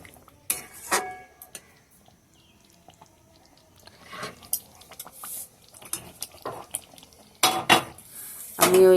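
Potatoes tossed with spice masala in a pan give scattered metal scrapes and clinks of a spoon against the pan, with quiet gaps between bursts and a louder clatter near the end.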